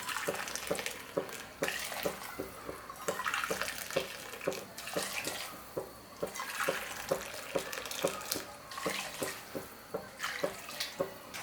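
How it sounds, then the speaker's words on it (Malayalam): Boiling water streams into a pot of three cups of rice for Bangalore-style donne chicken biryani, a continuous pour broken by regular splashy pulses as the liquid hits the grains. "നല്ല തിളച്ച വെള്ളമാണ് ഞാനിതിലേക്ക് ഒഴിച്ചു കൊടുക്കുന്നത്"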